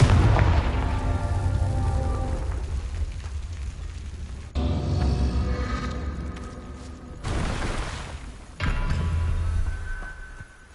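Booming fire-spell blasts in Hogwarts Legacy, a series of heavy explosive bursts with sharp onsets and rumbling low tails, recurring every couple of seconds with no talk.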